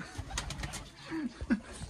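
A pigeon coos softly a couple of times, low throaty calls close by at a mini zoo, over faint background noise.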